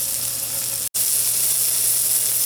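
Food sizzling steadily in a cast iron pan over a soda can alcohol stove, a close, even frying hiss with a momentary dropout near the start.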